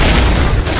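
German stick grenade detonating in Call of Duty (2003), a loud, close, deep boom that fills the short moment and cuts off abruptly.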